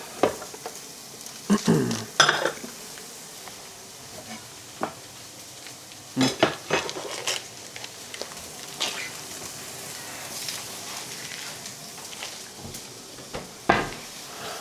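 Onions sautéing in a pan while lamb meatballs are being prepared: a low sizzle underneath irregular clatter of utensils and cookware, with bursts of scraping and knocks scattered through, and no clear speech.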